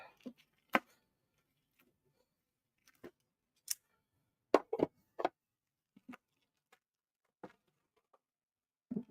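Packaging is cut during an Xtool F1 laser engraver unboxing in a quiet room, heard as sparse, soft snips and clicks scattered irregularly with silence between them.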